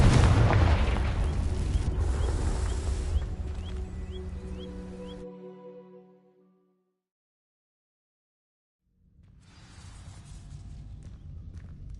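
A Confringo fire spell explodes in a Harry Potter video game with a loud, rumbling blast and bright crackling chirps. It fades into ringing tones, then near silence, before soft ambient game sound returns.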